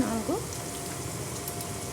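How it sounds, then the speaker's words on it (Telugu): Dried red chillies dropped into hot oil for tempering lentils with spinach, a faint continuous frying sizzle with a brief voice at the start. "ఎండిన మిర్చి వేస్తున్నానండి"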